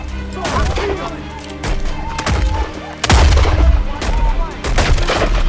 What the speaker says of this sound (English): Need ammo! Keep moving! Use your pistol! Short range!